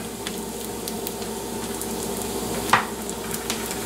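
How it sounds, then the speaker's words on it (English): Bacon is raked to one side of a pan of bubbling bacon grease, steady sizzling under soft scraping, with one sharp metallic clink from the utensil against the pan near the end. "what I'll do now is rake all the bacon to one side"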